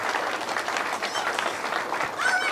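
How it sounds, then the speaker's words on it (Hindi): Sustained, dense audience applause for a poet at a Hindi comic poetry gathering (hasya kavi sammelan), steady and loud for the whole stretch with a faint whistle near the end. "तो एक बार जोरदार तालियां प्राची मिश्रा जी के लिए हो जाए"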